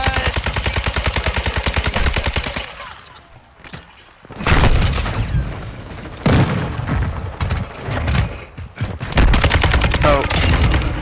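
Pistol fire in Call of Duty: Modern Warfare II, rapid rhythmic shots at the start, a brief lull, then loud clustered bursts of gunfire with overlapping battle noise.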